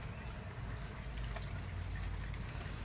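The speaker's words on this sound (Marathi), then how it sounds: "तेव्हा आवाज येते पाण्याचा." Water from a canal flowing and trickling steadily nearby, a continuous soft liquid wash with no voices over it.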